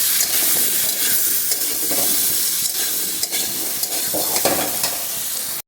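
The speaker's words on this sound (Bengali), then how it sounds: "এখন বিটটাকে একটু নুন হলুদ দিয়ে ভেজে নিচ্ছি" Grated beetroot frying in oil in a pan with salt and turmeric, a loud continuous sizzle with a spatula stirring and scraping up close.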